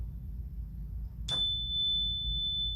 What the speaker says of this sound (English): we can hear different energies too, like this bell that we have here